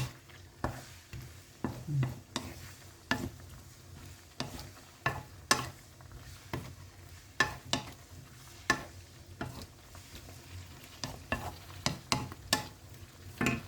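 Pork with cabbage, carrot and onion stir-fried in a pan, with repeated scraping and tossing strokes at an uneven rhythm over a soft, steady sizzle, close up and without talk.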